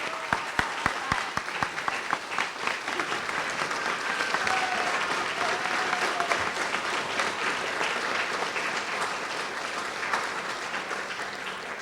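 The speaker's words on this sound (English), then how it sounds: "give one final round of applause to all of our star student and teachers" Sustained applause from a crowd at a school board meeting, starting with a few distinct claps and swelling into a steady, loud round of clapping that continues throughout.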